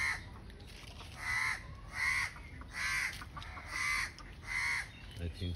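A crow caws outdoors among tropical garden trees like coconut, guava and jackfruit, giving about five loud, evenly spaced harsh calls over steady background noise.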